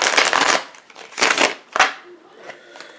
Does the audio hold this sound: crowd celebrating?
no